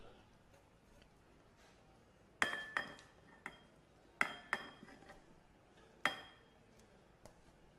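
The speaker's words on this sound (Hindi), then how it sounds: "अब एक बड़े साइज़ का बर्तन ले लेंगे और उसके अंदर इसको ट्रांसफ़र करेंगे।" Thick cooled homemade breakfast mixture being moved into a large cooking pot, heard as sharp metallic clinks and knocks of utensil against vessel in three clustered bursts, close and fairly loud over quiet room noise.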